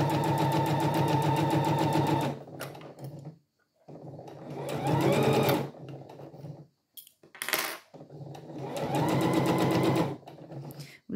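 A sewing machine stitches piping along a curved seam in three steady, close, rapid-whirring runs, separated by short pauses with small clicks and handling noises.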